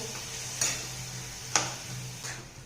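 Jaggery being stirred in a pan over a low flame, with a few sharp scraping strokes spaced about a second apart over a faint steady hiss, close and quiet.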